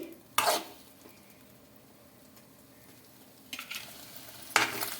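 Eggs are stirred into jowar flour batter in a bowl, heard as a few short scraping, clinking strokes of a utensil separated by quiet pauses.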